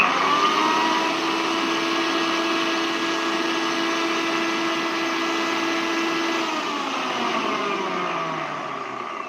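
A mixer grinder jar grinds masala spices with a steady, loud motor whine, running continuously for several seconds before the tone begins to drop as the machine slows.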